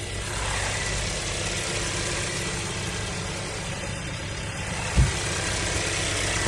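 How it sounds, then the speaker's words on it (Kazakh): A 2019 Hyundai Santa Fe with a 2.0 turbo petrol GDI engine idles close by with a steady, even broadband hum. One faint click sounds near the end. "Моторын дауысын естірістер"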